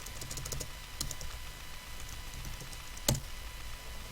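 Keys clack on a computer keyboard as a new folder is named, a short run of quiet taps followed by a louder single keystroke, with no talk.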